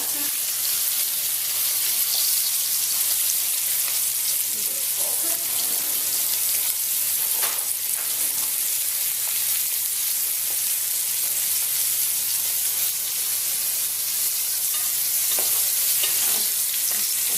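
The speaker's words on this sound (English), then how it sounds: "And this cooks really fast, so it doesn't need too long to fry." Rainbow trout fries in a hot pan with a continuous, close sizzle and crackle, with soft scraping moments now and then.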